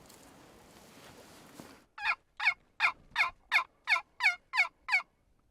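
A quiet rustle followed by a rapid run of about nine loud, evenly spaced gobbles from wild turkeys nearby in northern Idaho.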